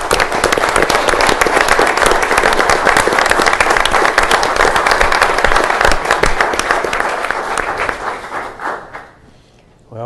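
A room full of people at a county board of commissioners meeting claps for candidates standing up, dense, loud and sustained for several seconds before tapering off into near quiet.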